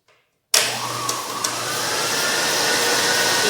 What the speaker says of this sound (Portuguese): a gente vai começar batendo os 3 primeiros ingredientes na batedeira